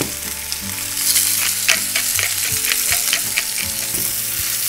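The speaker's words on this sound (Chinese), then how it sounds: "把它这块脂肪煎一下。" A steak sears in a frying pan with its fat edge pressed to the heat, giving a loud, steady sizzle and crackle with occasional sharper pops and scraping, close up and without talk.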